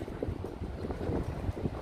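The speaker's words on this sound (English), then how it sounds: "It is windy, but it's expected. It's by the water, so it has to be windy." Wind buffets the microphone in low, rumbling gusts along New York City's East River Greenway, with a hint of river water lapping nearby.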